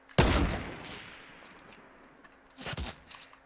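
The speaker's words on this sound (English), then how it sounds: "Oh, he's shooting back." Two bursts of gunfire from the Fortnite video game, a sharp loud shot with a decaying tail, then a second shorter burst of shots a couple of seconds later, heard alone.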